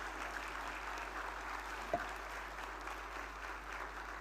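Faint, steady applause from an audience at an international drug regulatory conference, distant and even, with one brief louder bump midway.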